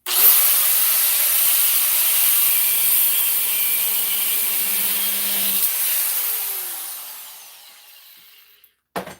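A power tool cuts pieces off a part clamped in a vise, some of them aluminum, giving a continuous harsh, hissing grind with a whining tone that gradually fades and stops, followed by a brief clunk.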